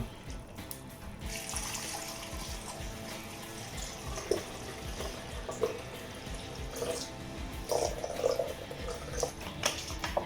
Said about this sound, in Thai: ก็ใส่น้ำครับ กะพอที่เราจะต้มกินครับผม